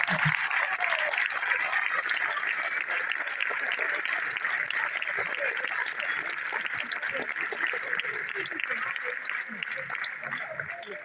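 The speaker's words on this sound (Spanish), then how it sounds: "Un aplauso para eles." Audience applause for pupils at a primary school graduation ceremony, a long steady roar of many hands clapping, dense and even from start to finish with a slight fade near the end.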